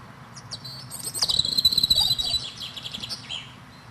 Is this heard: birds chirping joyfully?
yes